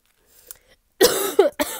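A person coughs close up, a few rough, harsh bursts in quick succession after a short quiet stretch with faint small noises, with no speech.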